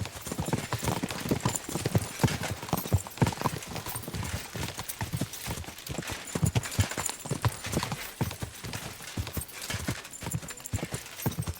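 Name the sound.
horses galloping in race, video game Kingdom Come Deliverance 2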